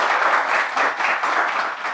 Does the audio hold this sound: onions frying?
no